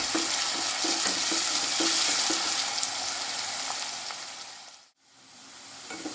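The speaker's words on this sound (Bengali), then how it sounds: "পেঁয়াজ আর কাঁচা লঙ্কাটাও খুব ভালো করে ভেজে নেব।" Chopped onion and green chilli frying in a pan for a paneer bhuna masala, a continuous bright sizzle with soft stirring scrapes, then a brief dip to near silence before the sizzling resumes.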